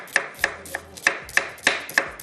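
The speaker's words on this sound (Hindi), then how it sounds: "बिल्कुल बारीक बारीक स्लाइस कटिंग करेंगे" Knife slicing raw potatoes finely on a cutting board, about eight crisp, evenly paced chops close up, with no talk.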